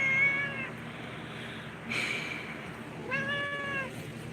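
A cat meows twice, once at the start and again near the end, with a short faint chirp between, close and clear against a quiet room hum.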